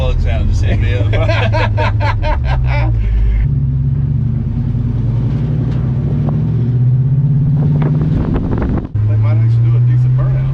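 A V8 LS-engined truck after street tuning on all eight cylinders rumbles loudly nearby with a deep idle and revs, wind buffeting the microphone, while people talk over it.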